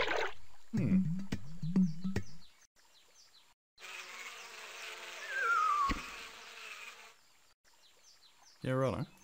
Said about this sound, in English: Help! Help! A bee! A bee!